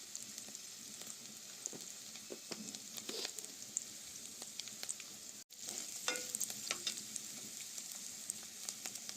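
Turmeric fries in a pan of oil for a potato fry, giving a faint, soft sizzle with scattered crackles and light stirring scrapes. A brief dropout comes partway through.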